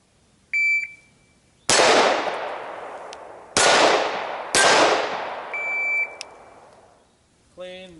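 Gunshots striking steel shooting targets outdoors, three loud sharp reports each followed by a long ringing decay, interspersed with short electronic beeps from a shot timer.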